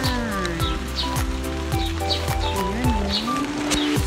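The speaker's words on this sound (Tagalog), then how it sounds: "Umuulan ngayon." Steady rain falling outdoors on a morning walk with an umbrella, a dense continuous patter of drops, with some faint tonal sounds and distant knocks in the background.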